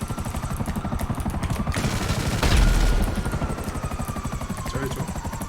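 In GTA 5, a Buzzard helicopter's rotor thumps in a steady rapid pulse while its machine gun lets off a loud burst of automatic fire midway.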